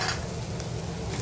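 Freshly grated coconut goes into okra frying in a pan, and a dense, close sizzle and crackle continues steadily with light stirring texture.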